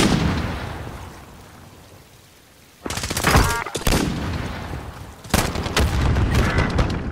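Bursts of rapid gunfire in a shooter video game, loud and close, arriving in sharp clusters after a quieter stretch, with a couple of heavier booming volleys.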